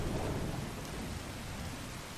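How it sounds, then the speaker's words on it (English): Rain and thunder in a VR video game, a steady dense downpour with a low rumbling roll underneath, continuous and fairly loud, with no talking. "Still raining here. Typical weather."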